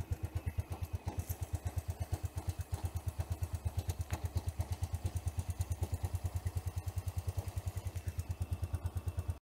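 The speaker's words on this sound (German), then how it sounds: "dass ich die Schraube so weit eindrehe, bis der Standgas stabil ist" Fuel-injected Sym Jet 14 scooter engine idling steadily while its idle screw is adjusted, a close, even, rapid putter with a light mechanical clatter running unbroken throughout.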